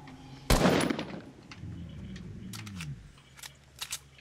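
A single sharp gunshot bursts out in the Fortnite video game as a statue is shot, followed by a fading rumble and a few faint clicking sounds.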